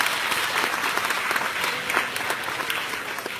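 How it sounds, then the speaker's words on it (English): An audience at the AML 2016 closing ceremony claps in sustained, dense applause that fills the room evenly before tapering slightly. "So clap for yourselves."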